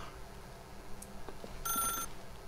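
A telephone rings briefly in The Stanley Parable, a faint electronic bell tone with a short burst over a quiet game background.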